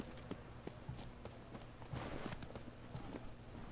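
Roach the horse clip-clops along in The Witcher 3, a steady rhythm of hoof strikes on the ground, close and clear over a dense bed of in-game ambience.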